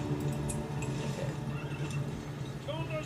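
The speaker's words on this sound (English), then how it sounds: "that sounded exactly like Link's horse Epona from Legend of Zelda" A horse neighs in The Battle for Middle-Earth video game, a high whinny over a steady hum of game sound and music, fairly faint and brief.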